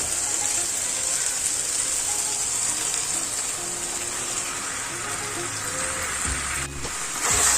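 Chicken pieces added to a frying masala of garlic and green chilli sizzle in a steady, close crackle throughout, with a few clunks of utensils near the end.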